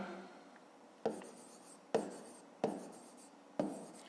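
A pen writes on paper during a fifth-grade maths lesson, giving soft scratching strokes broken by four sharp taps as it lifts and comes down again, close and quiet.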